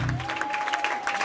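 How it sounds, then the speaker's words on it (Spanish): A concert crowd gives brief, dense applause for the sound technician at a live music show, a continuous burst of clapping with a sustained tone humming underneath. "Un gran aplauso para este hombre."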